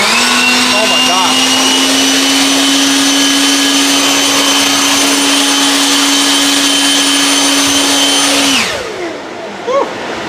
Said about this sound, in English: That is one badass blower.